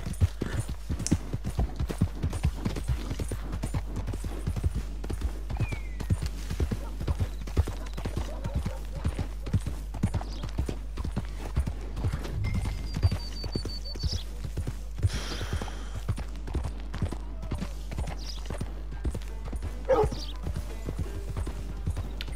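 Horse hooves clip-clop steadily in Red Dead Redemption 2, a continuous rhythmic trot throughout over a low rumble, with faint game sounds and an occasional voice in the background.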